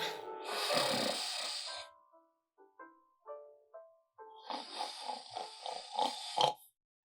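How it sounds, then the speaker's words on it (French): Close, loud snoring indoors, a long rasping inhale followed by snorting, sputtering exhales in a rough rhythmic series, with no talk. "Tu te plains du fait que je ronfle."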